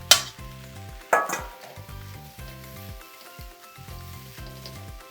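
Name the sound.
white part of leeks frying with onions for kottu roti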